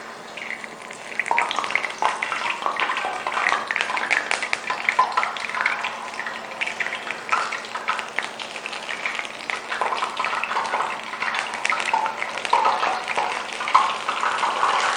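Homemade jalebi batter frying in hot oil, a continuous dense bubbling sizzle that stays steady and fairly loud throughout, close by, with no talking.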